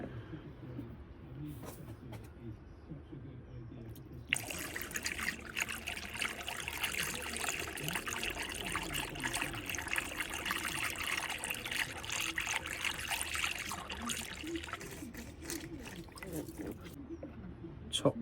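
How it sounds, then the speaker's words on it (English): Concentrated antifreeze is poured through a funnel into the coolant bottle of a 2017 Vauxhall Mokka X, making a steady close trickle that starts abruptly and runs for about ten seconds before easing off. "going to fill it with a concentrate antifreeze. And using a funnel,"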